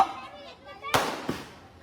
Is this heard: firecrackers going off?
yes